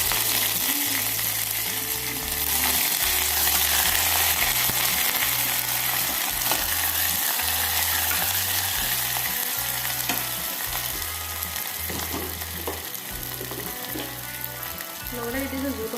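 Chopped onions frying in hot oil with bay leaves and dried chillies, a loud continuous close sizzle with occasional stirring scrapes throughout.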